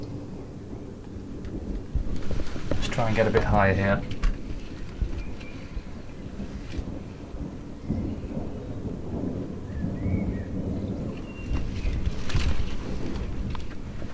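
Rumbling thunder from a northwest England thunderstorm rolls and swells amid steady rain and wind outdoors, with a loud crack-like burst early on and further rumbles later, while someone speaks intermittently nearby.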